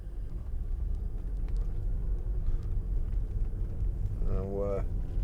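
A 2005 Jaguar XJ 2.7 TDVi diesel saloon is driven, giving a low steady road rumble heard from inside the cabin, with a brief rising whine near the end.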